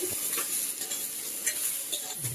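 Spinach stalks and finely chopped cauliflower stems with black peppercorns and salt sautéing in a pan, a steady close sizzle with stirring scrapes throughout.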